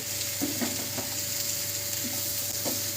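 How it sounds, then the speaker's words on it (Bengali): Chopped spring onions fry together with potato and egg over low-to-medium flame, a close, even sizzle with a few light spatula scrapes scattered through it and a faint steady tone underneath. "এবার এই পেঁয়াজকলিটা ভালো করে আলু ডিম সবকিছুর সাথে ভালো করে একটু কাল কষিয়ে নেব।"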